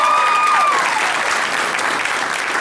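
An improv comedy audience breaks into loud, sustained applause, a dense wash of clapping from a packed room that holds steady for a few seconds, with a brief whoop near the start.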